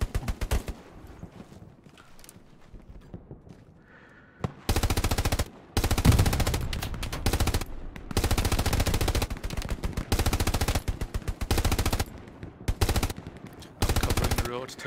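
A mounted machine gun fires in Hell Let Loose during an 18v18 scrim, loud sustained bursts of rapid automatic fire separated by short pauses, with quieter voice chat talk before the shooting.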